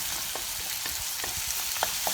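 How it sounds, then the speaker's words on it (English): Onions caramelizing in a pan for an egg curry: a dense, even sizzle up close, broken by a few soft scrapes and clicks of stirring, with no one speaking. "caramelize these onions"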